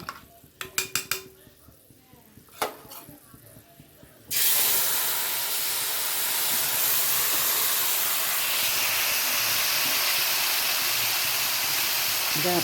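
A few clinks and taps of a pan, then ingredients hit hot oil and a loud, steady sizzle bursts in abruptly and holds without a break.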